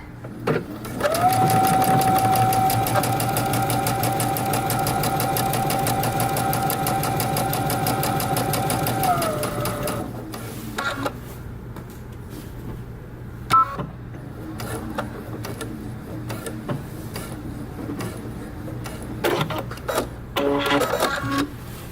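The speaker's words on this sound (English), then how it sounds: "we're going to sew from the bottom of our crotch up until we reach this dot" A sewing machine stitches a jeans crotch seam in a steady loud whirring run for about nine seconds, then stops, followed by quieter handling clicks and rustles of fabric.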